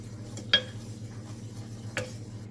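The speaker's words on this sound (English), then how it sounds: "Just going to stir this quickly in case it starts boiling." A spoon scrapes and clinks twice against a pot while muesli bar mixture is stirred on the stove, two sharp contacts over a low simmering background; no talking.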